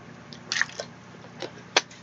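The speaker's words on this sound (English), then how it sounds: "Let me take a sip of water here." A person takes a sip of water: a few soft, close wet slurps and a swallow, with brief quiet gaps and a sharper click near the end, faint and without talk.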